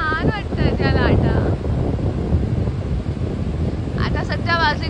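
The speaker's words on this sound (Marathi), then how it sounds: "किती छान वाटतं त्या लाटा" Sea waves wash on Alibaug beach in the Konkan, a steady broad roar close by that runs through the whole stretch, with a voice talking over it at the start and end.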